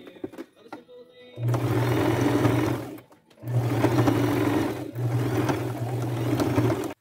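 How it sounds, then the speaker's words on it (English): A sewing machine runs a wide zigzag stitch, sewing doily layers onto a skirt. Three sustained bursts of steady whirring hum come up close, separated by short pauses, with no talking. "I'll just stick it back in my machine"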